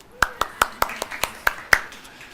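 Audience applause, a short run of about eight distinct, fairly crisp claps spaced unevenly, fading toward the end with little overlap between hands.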